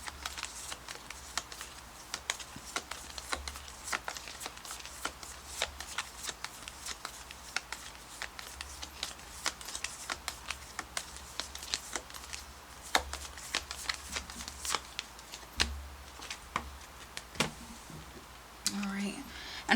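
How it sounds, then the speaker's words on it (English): Tarot guidance cards are shuffled by hand, a dense run of quick riffling snaps and soft slaps that goes on nearly unbroken, close and fairly quiet, with no talk over it. "let's pull you some additional guidance cards"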